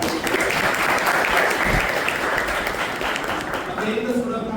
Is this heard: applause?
yes